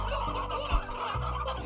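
Chickens in the video game Slime Rancher cluck and gobble in a short flurry of layered fowl calls, fairly close and busy, with no talking.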